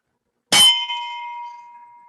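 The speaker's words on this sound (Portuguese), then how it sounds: "agora eu vou tocar o sino aqui" A single bell struck to close a club meeting: one bright clang followed by a long, clear ringing tone that slowly fades, with no voices over it.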